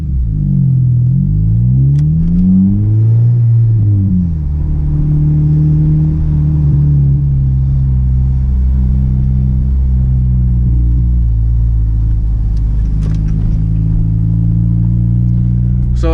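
A car on a point-of-view drive rumbles low and steady, the engine pitch rising and falling as it accelerates, with heavy wind noise buffeting over a continuous road drone.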